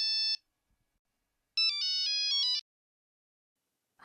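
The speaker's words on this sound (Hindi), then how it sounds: "वेवाण का फोन।" A melodic electronic phone ringtone plays in two short bursts separated by a pause, clear and bright with no talking.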